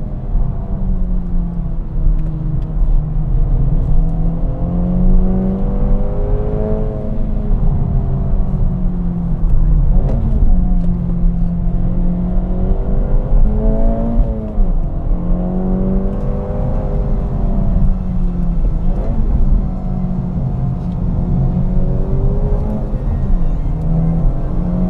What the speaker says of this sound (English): it encourages you to rev it out. There's no noticeable VTEC kick, but it does pull all the way to redline.